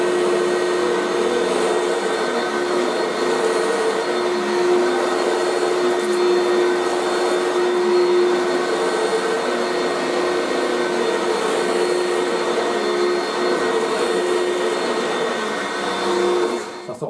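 A Dyson DC01 De Stijl limited-edition vacuum cleaner runs continuously at close range, a steady loud motor whine with a strong fixed tone and airy rush, then cuts off abruptly at the very end.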